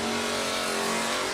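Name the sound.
Camaro and Mustang drag cars launching at a race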